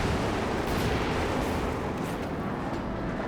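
A coordinated artillery barrage in the World War II strategy game Company of Heroes 2, heard as a dense, continuous rumble of overlapping blasts with no clear gaps between impacts.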